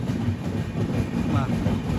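Jhelum Express train rolling on rails after leaving Uruli on the Jammu to Pune route, a steady close low rumble with faint rhythmic clatter throughout, no talk.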